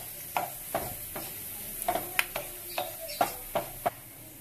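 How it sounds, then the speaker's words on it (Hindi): Cumin seeds frying with browned garlic in hot oil, a steady sizzle broken by repeated sharp clicks and taps of stirring at close range, no talk. "हम इसके अंदर जीरा ऐड कर देंगे और जीरे को भी ऐसे फ्राई कर लेंगे।"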